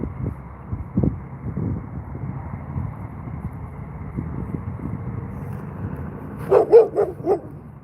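A female dog outdoors lets out a quick burst of three or four loud barks near the end, after a stretch of low outdoor rumble and faint background noise.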